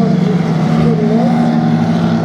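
A more powerful autocross car in a regional-class super final roars loudly and steadily at high revs, engine pitch rising and falling slightly as it drives close by.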